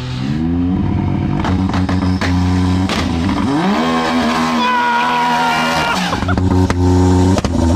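A 400 hp Can-Am X3 side-by-side on saw-blade wheels roars close by, its engine revving up and down in sweeping pitch during a wheelie, loud and continuous.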